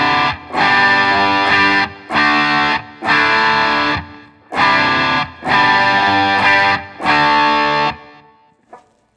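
A Monoprice Indio electric guitar on its bridge pickup plays through a tube screamer overdrive pedal, loud crunchy chords struck in six sustained bursts separated by short pauses, ending with a faint final pluck.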